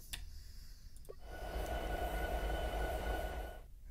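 A train in Train Sim 2017 rumbles and clatters steadily, swelling louder as it pulls forward, with a faint tonal hum above the low rolling noise.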